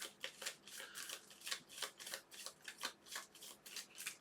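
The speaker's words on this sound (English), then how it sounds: "we just take these action cards and shuffle them" A deck of action cards for the board game Terraforming Mars is shuffled by hand, heard as a quiet, steady run of rapid papery riffles and flicks close by, with no voices.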